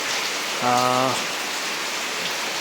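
Heavy rain pours down at night in Jaffna, a steady broadband hiss of downpour running throughout, with a brief tonal beep-like sound partway through.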